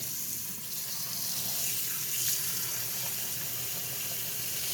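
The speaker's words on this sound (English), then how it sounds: "I'm always blocking the water here so that the berries aren't getting beat up by the water pressure" Steady running tap water splashing over strawberries in a sink, a continuous close rush with no talking.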